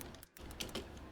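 Faint, quick clicking of typing on a computer keyboard, a run of soft irregular keystrokes close by under a low background hum.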